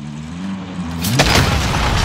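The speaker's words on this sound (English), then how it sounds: "they're shooting at us" Gunfire in the video game Call of Duty: Modern Warfare erupts as a loud burst of shots after a second of low droning hum, continuing as dense noisy crackle to the end.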